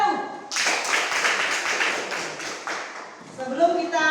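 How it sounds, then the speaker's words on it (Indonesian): A primary school class of children clapping together in a classroom, a burst of fast, dense applause lasting about three seconds, framed by a teacher's voice before and after. "Oke, tepuk tangan dulu."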